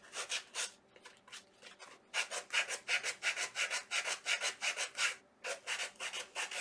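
A hand sanding block rubs back and forth over wood in a steady series of rasping strokes, close and fairly loud, with a brief pause partway through and no talking.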